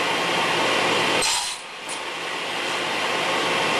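Wooden top and bottom bars for foundationless beehive frames being cut to a 17 3/4 inch length from a 2x board, a steady loud rasping saw noise that briefly drops away and then resumes, with no talking.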